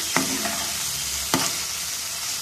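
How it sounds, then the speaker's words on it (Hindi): Small boneless chicken pieces fry in a frying pan for a tika pizza, a steady close sizzle with two sharp scrapes of a spatula stirring, no voices. "इस तरह से हम इसे फ्राई कर लेंगे।"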